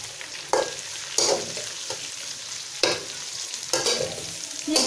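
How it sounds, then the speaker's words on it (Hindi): Chicken chow mein with sliced carrots is stir-fried in a hot pan, a steady sizzle broken by four or five loud scraping tosses of the spatula at irregular intervals. "अब इन तमाम चीज़ों को अच्छी तरह से मिक्स कर लेंगे।"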